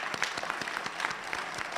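Audience at an indoor announcement event applauds steadily, a dense run of overlapping claps at moderate distance throughout.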